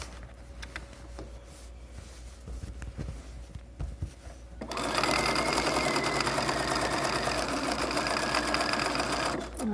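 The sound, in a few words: sewing machine stitching a pillowcase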